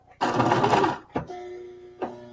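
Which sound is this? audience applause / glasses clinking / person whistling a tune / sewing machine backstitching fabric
sewing machine backstitching fabric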